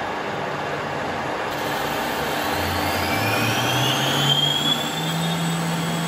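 A CNC lathe parting off a free-machining aluminium bar, cut dry, with a steady machine whine and rising, drawn-out tonal squeals as the tool feeds in. No one talks.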